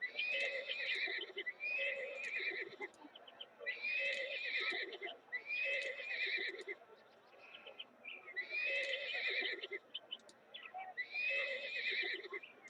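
Horses in a zoo management video game give repeated whinnies and neighs, about six bursts spread evenly across the clip at a steady moderate level over a continuous background bed.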